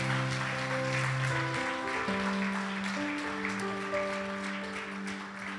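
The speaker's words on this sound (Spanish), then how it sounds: "Dele ese aplauso al Señor." A church congregation applauds while sustained organ or keyboard chords play throughout, the clapping a soft, dense patter beneath the music.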